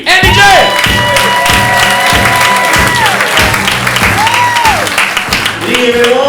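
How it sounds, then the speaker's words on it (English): A comedy club audience applauds and cheers a comedian steadily and loudly, with music playing over the crowd. "Ladies and gentlemen, big round of applause for Andy J."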